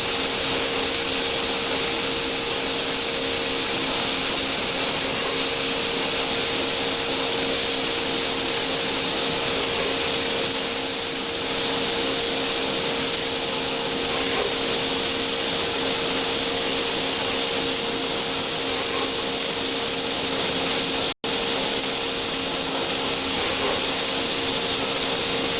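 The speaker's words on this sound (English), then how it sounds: "slowly but surely, it will drill that part all the way through" A CNC machine slowly drills all the way through a metal part for a 1845C skid steer under coolant. The continuous loud whirring hiss carries steady tonal hums and holds constant, broken only by one sharp click near the end.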